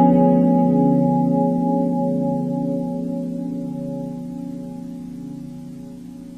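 A guitar chord in a major 7 shape with an added flat 9, played as a five chord in 8th position, ringing out alone and decaying gradually over several seconds.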